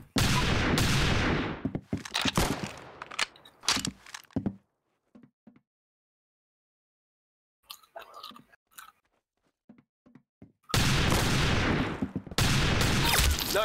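Gunfire in the video game Arsenal, dense bursts of rapid shots at the start and again at the end, loud and close, with a quiet stretch and scattered faint clicks in between.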